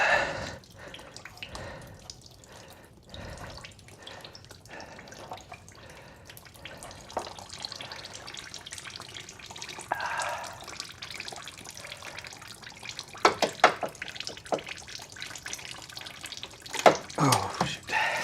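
Coolant dripping from a leaking water pump on a 2019 Kia Sorento 3.3, scattered close drips and small splashes, faint at first and growing more frequent toward the end.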